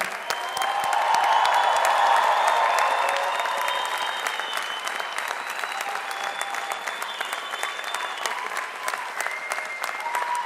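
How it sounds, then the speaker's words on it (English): A big commencement audience cheers the graduating class of 2019 at WPI, loud massed clapping with whoops that swells early then settles into steady applause, a few crisp nearby claps standing out. "Let's hear it for this great graduate class of 2019."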